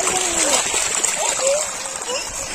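Water gushing from a pump's outlet after the machine is switched on, a steady broadband splashing and spattering that runs continuously throughout, with children's voices faintly audible underneath.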